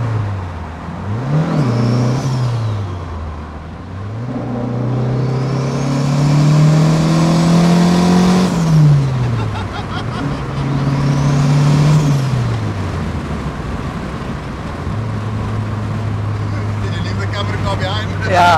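A turbocharged Opel Kadett 16V with a 20XE engine accelerates hard through several gears, loud rising engine drone with turbo whistle and gear-change dips, heard from inside the car.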